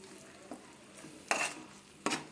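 Ground peanut and sesame paste being stirred into ivy gourd kurma in a pan: a few soft scraping strokes at a steady pace over a faint sizzle, close by with no talking.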